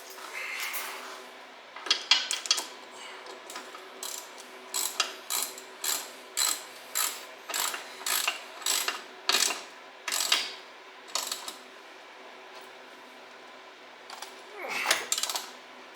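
Ratchet with a deep well socket tightening nuts on the front end of a 1968 Pontiac GTO A-body, a close, rapid series of sharp clicking bursts in a regular rhythm with short pauses, heard alone.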